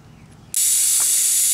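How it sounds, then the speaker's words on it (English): Air rushes out of a car tire through the open valve stem after the Schrader valve core is pulled, a sudden loud steady hiss that starts abruptly after a quiet moment and holds close to the microphone. "So while my tire's going flat, let's hook up the airline."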